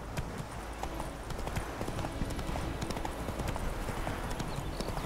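Horse hooves clip-clop in a fast, steady galloping rhythm in The Witcher video game, loud and continuous under a faint background.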